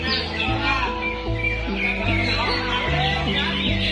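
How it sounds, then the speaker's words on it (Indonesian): A cucak hijau, the green leafbird, sings at a bird contest. Its chirps and whistles are quick and varied, heard over a loud, steady crowd murmur and a low, droning background. "Ini adalah sesi cucak hijau 66A ya."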